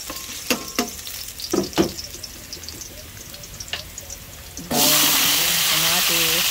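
Garlic sizzles in a hot pan. A few sharp clattering stirs land over the frying, and a loud, steady broadband hiss takes over in the final two seconds.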